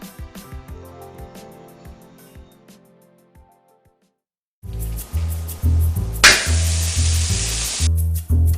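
Steaks and peppers hit the hot Fiesta Wok, a black iron cookware pan, after a quiet stretch of music, then sizzle loudly and steadily up close, with a sharp burst of frying hiss partway through.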